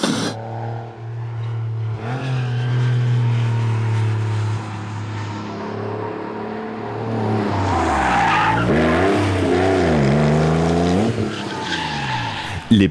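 A race car engine revs and screeches past at high volume, its pitch sweeping up and down over about thirteen seconds with tire skid noise mixed in.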